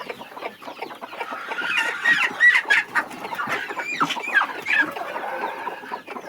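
Laying hens on a poultry farm cluck steadily, several birds overlapping in a dense, continuous chatter at moderate loudness with no voices.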